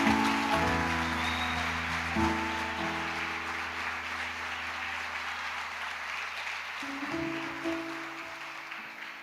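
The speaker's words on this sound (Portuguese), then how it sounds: "dá um aplauso bem gostoso para Jesus aí" A church congregation claps steadily for several seconds at a live Sunday service, a dense, sustained applause with a faint tonal hum underneath, fading slightly toward the end.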